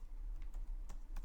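A command is typed on a computer keyboard, a short run of a few light, separate key clicks over a low background hum.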